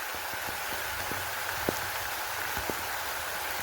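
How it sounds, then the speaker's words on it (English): Heavy rain pours steadily outdoors at a temple in Malaysia, a dense continuous hiss with a few sharp drops or drips standing out, no voices. "Now it's raining heavily."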